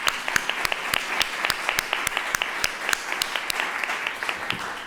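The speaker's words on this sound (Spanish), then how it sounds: "yo quería dar un aplauso" A small audience at a talk on professional artistic practice applauds, with individual claps standing out sharply over a softer, steady patter of hands that carries on throughout.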